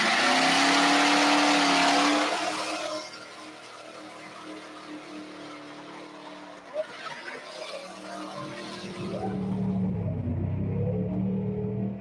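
A 1969 Chevy Camaro Rally Sport engine revs hard and loud up close for the first few seconds, then settles into a lower idle rumble before building again toward the end, with no talking over it.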